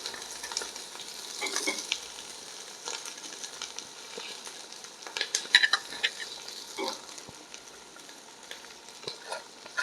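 Onions with ginger and garlic sauté in ghee in a pan for ghee rice, a steady sizzle under repeated scrapes and stirs of a spoon against the metal, close and moderately loud, with no talking.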